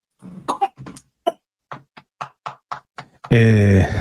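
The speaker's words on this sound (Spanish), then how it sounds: "estaba tosiendo el bebé" Several short, sharp coughs in a row from a baby, fairly close, followed by a burst of crying or fussing at the end.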